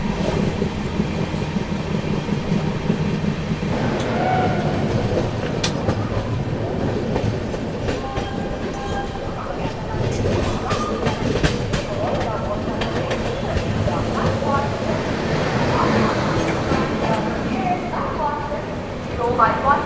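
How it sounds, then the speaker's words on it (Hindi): The Gitanjali Superfast Express runs toward Nashik Road, a steady rumble with rhythmic clickety-clack of wheels over rail joints heard from inside, continuous throughout with someone talking over it. "ट्रेन अपनी थोड़ी ही देर में नासिक रोड पहुँचने वाली है"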